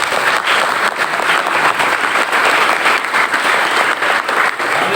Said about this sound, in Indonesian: silakan tepuk tangan untuk SMP Negeri 1